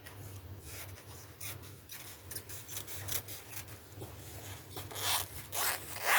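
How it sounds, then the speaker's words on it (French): Scissors snip through a paper square while an Easter table centrepiece is being made, a run of close, quiet rasping cuts that builds louder toward the end. "Je vais couper ici."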